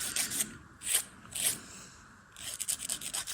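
Fingernails are filed back and forth with a nail file, close and quiet. Short scratchy strokes come in a few separate passes, then a quicker run of rasps.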